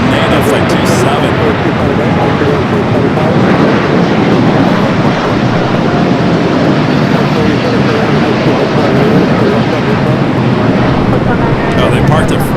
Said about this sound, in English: the American Dreamliner rolling down 25 right